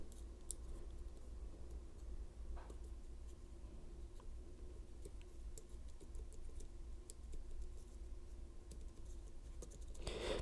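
A Lishi HU66 pick works inside a Volkswagen door lock, giving faint, sparse little clicks and ticks over a steady low background hum, with no talking.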